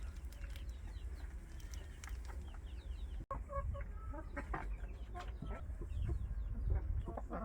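Hens settled in nests over clutches of eggs for natural incubation cluck and call repeatedly, close and fairly loud, with a steady low rumble of background noise throughout.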